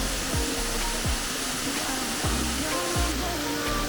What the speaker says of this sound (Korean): 시원하고 웅장한 연산폭포 너무 멋있습니다